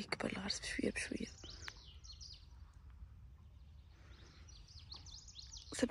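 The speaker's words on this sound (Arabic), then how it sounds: "سبع زقزقات العصافير" Small garden birds chirp in short, scattered bursts, light and fairly faint, with a soft murmured voice near the start.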